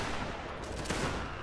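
Dense, continuous musket volley fire crackles through a line battle video game, many shots overlapping into a steady roar with a sharper burst near the middle.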